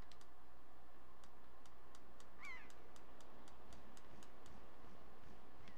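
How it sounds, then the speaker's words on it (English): Bird calls in the video game The Legend of Zelda: The Wind Waker: one brief chirp rises midway over a steady, regular ticking pulse and a low ambient hum. "I love how these birds are just always near."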